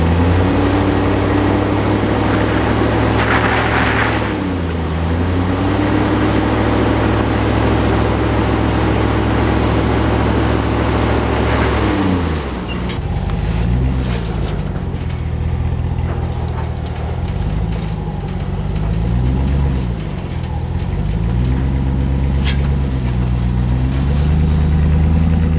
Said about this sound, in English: Little bit of an all-wheel drive burnout there.